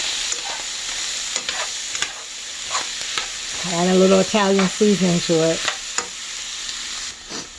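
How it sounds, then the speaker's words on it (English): Beef sizzles steadily in a hot pan with a constant stir-frying hiss, punctuated by scraping stirs, while a person speaks briefly partway through. "And we just keep stir frying that."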